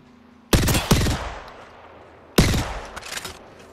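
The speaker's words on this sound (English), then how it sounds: "It's a Kraber." Two pairs of heavy Kraber sniper rifle shots in Apex Legends, each a sharp loud crack followed by a second blast and a long decaying echo.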